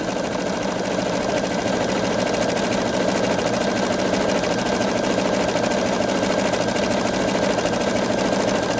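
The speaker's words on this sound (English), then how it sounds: "I'm going to put my needle down, and I'm going to angle a little bit, and then start sewing" A Pfaff Creative 3.0 sewing machine stitches steadily, its fast, even mechanical whir running close and loud without a pause.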